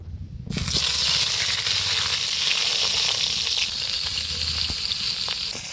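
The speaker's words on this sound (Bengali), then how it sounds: "কড়াইতে তেল গরম হয়ে গেছে, এবার বেগুনটা দিয়ে দিব।" Eggplant pieces drop into hot oil in a wok, setting off a sudden loud, hissing sizzle that stays steady and close, with faint crackles and pops throughout.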